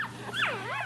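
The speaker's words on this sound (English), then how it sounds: "Then we've got this beautiful red puppy" A young red puppy gives a thin, wavering whimper, high and whiny, rising and falling over under a second, close by over a steady low background hum.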